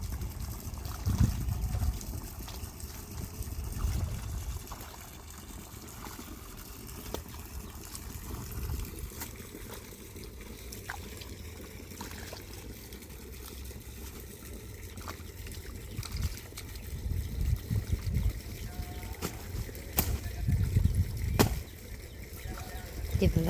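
Irrigation water runs through a cleared garden channel in a home vegetable plot, a soft, steady trickle with gentle swells and small splashes, faint and close, with people talking intermittently.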